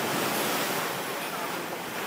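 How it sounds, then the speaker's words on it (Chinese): Storm-driven ocean waves crash and splash at a boat boarding pier on Xiaoliuqiu island during typhoon swell, a dense, close roar of surf with some wind buffeting and no voices. "海浪连环发，溅起一米高水花"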